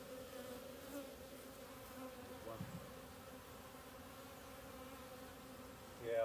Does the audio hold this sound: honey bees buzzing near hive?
yes